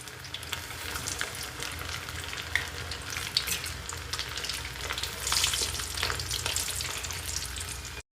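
Pieces of pomfret fish coated in masala fry in a hot pan, a steady close sizzle and crackle of oil with small pops throughout.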